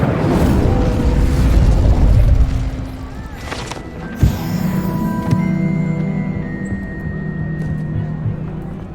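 A fire spell going off in Hogwarts Legacy, a loud rumbling burst that fades, followed by a sharp crackle and a lingering fiery hum with game effects.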